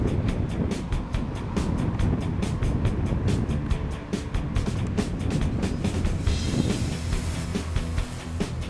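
The electric motor of a Flyzone ready-to-fly Focke Wulf 190 RC plane whirring through a spin over a field, with a fluctuating, pulsing drone mixed with wind noise at moderate distance.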